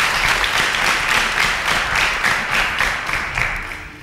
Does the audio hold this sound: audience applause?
yes